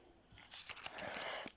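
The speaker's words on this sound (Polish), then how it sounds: "Tutaj przygotowałam sobie nożyczki." Scissors snip and crinkle through a foil sachet of Euro 2020 trading cards, a short run of close crisp cuts and rustles, quiet and without speech.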